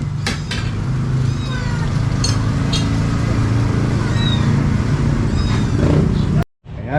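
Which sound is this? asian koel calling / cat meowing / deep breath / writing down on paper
cat meowing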